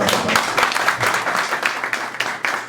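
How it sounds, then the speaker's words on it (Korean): An audience applauds at a community meeting on COVID-19 relief for small businesses, self-employed traders and traditional markets in Incheon. The clapping is dense and steady, filling the room throughout with no voices over it. "박수 한번 드려야 됩니다."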